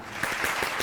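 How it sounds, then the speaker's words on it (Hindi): A studio audience at a television game show gives a brief burst of clapping, close and steady, lasting under a second. "तालियां"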